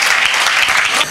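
A church congregation claps together in praise of God during a sermon, a loud, dense burst of applause that fills the moment and cuts off abruptly at the end.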